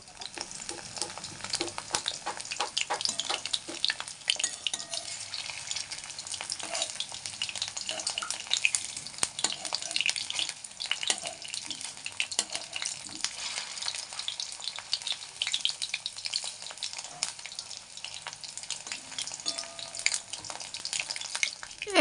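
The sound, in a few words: chicken pakora frying in oil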